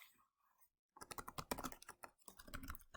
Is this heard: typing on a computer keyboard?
yes